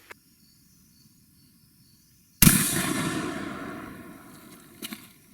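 Marlin Model 120 MXR Magnum 12 gauge pump shotgun with a 40-inch barrel firing a 3-inch turkey load from a shooting rest outdoors: one sudden loud blast after quiet insect chirping, rolling off over a couple of seconds, then faint clicks.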